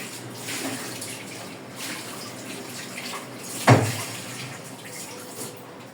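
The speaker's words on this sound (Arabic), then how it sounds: "رج الخلاط كده بشويه ميه عشان ينزل الخضره اللي فيه" Water sloshes and splashes inside a blender as it is rinsed out, with a steady wet rushing and one louder swish partway through, close by and without talking.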